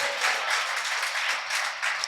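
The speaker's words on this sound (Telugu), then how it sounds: "చప్పట్లు కొట్టండి గట్టిగా" A church congregation claps loudly during a Sunday service, a dense, even roar of many hands close by that holds steady throughout without any voices.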